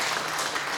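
Congregation applause during a church service, a steady wash of many hands clapping that fills the whole brief moment at even loudness, with no voices over it.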